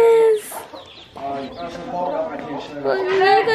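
Hens clucking with the high peeping of chicks, close by in El Salvador, while someone talks excitedly over them.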